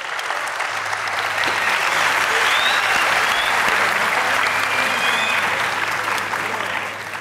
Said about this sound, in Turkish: Alkışlayan elleriniz dert görmesin.